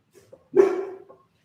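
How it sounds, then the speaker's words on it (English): A dog barks at the door indoors, one short loud bark or yelp with a brief whine before it, close to the microphone with no talk over it. "Goose is barking at the door."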